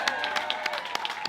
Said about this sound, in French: On applaudit très fort John